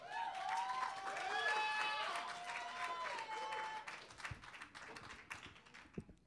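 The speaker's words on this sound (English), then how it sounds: "I just want to thank y'all for the applause." Audience applause for a performer at an open mic night, steady clapping mixed with cheering and a loud whoop, fading out over several seconds.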